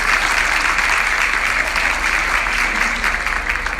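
An audience applauds the session chair at a live university debate, with steady, dense clapping that holds at an even level from start to finish.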